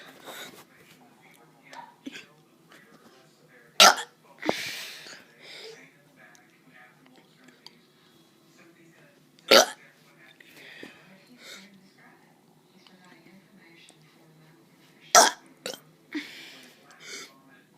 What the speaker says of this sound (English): I'm going to be making burp videos.